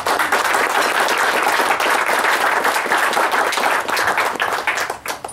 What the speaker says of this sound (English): So I want to leave the rest of us in applause for the local committee